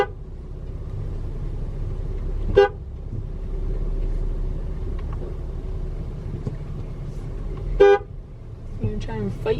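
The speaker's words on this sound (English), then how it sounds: "Honk." Two short car horn honks sound over a low engine rumble, spaced several seconds apart, with a few faint beeps near the end.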